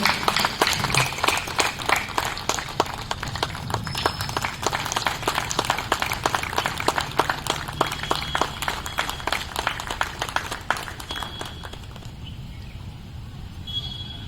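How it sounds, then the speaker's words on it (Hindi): An audience at an Independence Day celebration in Bhilwara gives loud, sustained rhythmic applause while someone is honored on stage, with many individual claps close together before the applause thins and fades near the end. "जोर से तालियां बजाकर आप सब"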